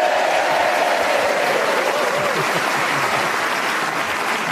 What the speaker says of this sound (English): Let's have a round of applause for Tony Hawks